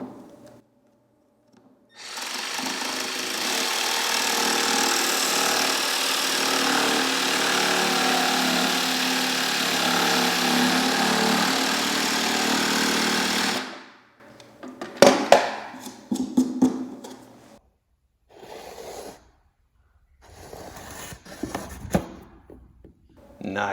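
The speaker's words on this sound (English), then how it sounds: "I much prefer this coping foot that's an attachment to a jigsaw. It's made by Collins Tool Company" A jigsaw fitted with a Collins coping foot cuts baseboard in a continuous loud, buzzing run of about twelve seconds, followed by short bursts of handling knocks and clatter, with no talking.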